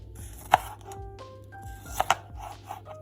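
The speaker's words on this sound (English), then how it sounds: "2 large tomatoes, cut into wedges" A knife chopping two large tomatoes into wedges on a board: a few sharp, close cuts, one crisp strike followed by a quick double tap, over quiet kitchen background.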